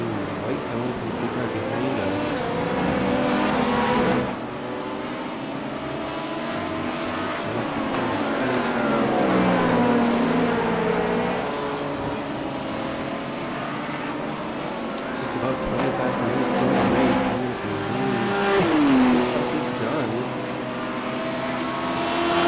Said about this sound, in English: passing the green and white LMP2 car behind